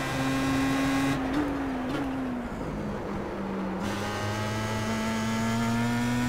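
Star Mazda race car engine in the iRacing sim at Mount Panorama, a continuous buzzing whine held at high revs that dips briefly as the car brakes and shifts, then climbs steadily again, with no talk.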